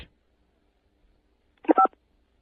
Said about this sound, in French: Appuyez sur la touche 5.